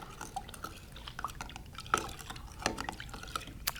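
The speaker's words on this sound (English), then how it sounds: "And then just stir it up gently." Dish soap bubble solution being stirred gently, with soft close liquid swishes and small drips and clinks at an irregular rhythm, quiet and with no talking.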